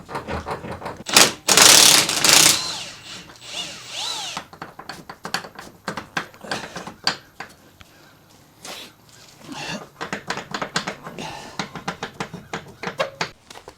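A Cobalt cordless impact wrench works at suspension bolts on a JDM Honda CR-V, loud hammering bursts early on followed by scattered clanks, tool handling and short rattling pulses.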